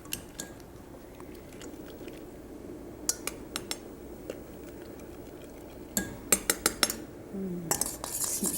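A metal colander is shaken over a pot of simmering soup to drop egg through, giving scattered light clinks and rattles that cluster into quick bursts, over a low background simmer.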